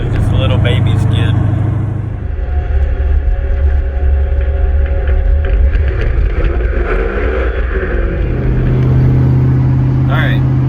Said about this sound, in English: that was one of my very few right-hand drifts